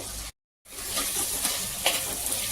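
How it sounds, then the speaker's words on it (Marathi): Tomatoes with salt sizzle while being sautéed in a pan for a prawn rice dish, giving a steady, close frying hiss with light stirring scrapes after a brief cut to silence. "आता टमॅटो छान मऊ होईपर्यंत आपल्याला परतून घ्यायचे आहे"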